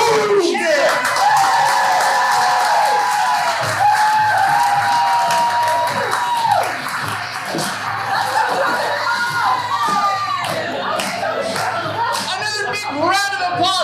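An improv comedy audience erupts in loud, sustained cheering and whooping with laughter mixed in, a dense crowd roar holding steady throughout with shouted voices rising above it.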